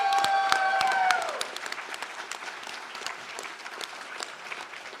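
A room full of people at an election night event claps and applauds. The loud burst of applause under a voice fades into steady, lighter clapping that continues to the end.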